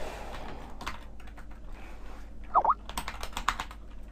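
Keys tapped on a computer keyboard while a Minecraft multiplayer server is set up, sparse quiet clicks in short irregular bursts close to the microphone, with a couple of brief brighter beeps mixed in.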